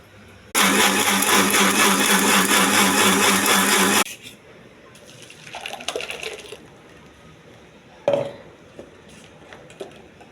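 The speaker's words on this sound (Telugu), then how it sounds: "మిక్సీ చేస్తున్నానండి." A mixer grinder blends grape juice with a loud, steady whirring roar for about three and a half seconds, then stops, followed by quieter clinks and handling of the jar.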